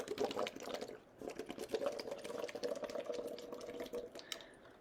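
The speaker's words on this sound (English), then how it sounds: "basically what you're going to do is start blowing bubbles into the water." Bubbles blown through a straw into a glass of water during a breathing exercise, a faint run of rapid gurgling and bubbling pops in uneven bursts, heard alone close up.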